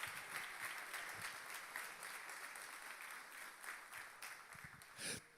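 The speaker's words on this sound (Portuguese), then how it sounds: "Alguém pode aplaudir ao Senhor Jesus?" A church congregation applauds during a sermon, sustained clapping that holds steady for several seconds and swells briefly near the end.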